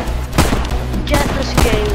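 Gunfire in the VR shooter Hard Bullet: a few loud, close bursts with heavy thumps and a mechanical revolver reload clatter between them, all very dense and forceful.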